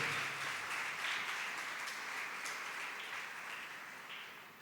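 A church congregation at a Sunday Mass in Pakistan applauds to mark a Marian feast anniversary, a dense, steady wash of many hands clapping that fades slightly toward the end.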